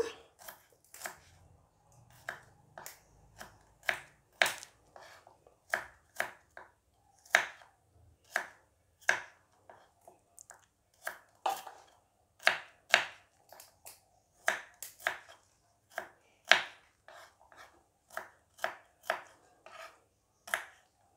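Shallots chopped with a knife on a cutting board in a steady series of crisp, sharp taps, close but quiet, in a quiet kitchen with no speech.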